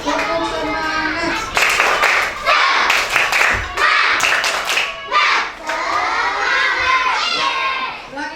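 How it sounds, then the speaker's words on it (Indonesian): Schoolchildren perform a rhythmic spirit clap called tepuk semangat in a classroom, bursts of patterned clapping mixed with loud children's chanting and shouting, close and energetic throughout. "Tepuk semangat."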